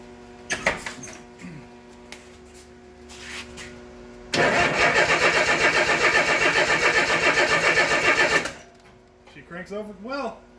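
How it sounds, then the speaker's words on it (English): A 1964 Pontiac Lemans engine, parked for twelve years, cranks over steadily for about four seconds with a loud rhythmic starter whir that stops abruptly, and someone speaks briefly before and after. "She cranks over well."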